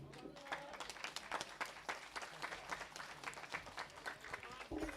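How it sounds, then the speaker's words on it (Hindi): An audience at a two-day live Ramayan recital gathering in a village claps in a steady, dense patter throughout, with voices mixed into the applause. "आप सभी के स्वागत सत्कार में दर्शक दीर्घा से जोरदार ताली आ रही है।"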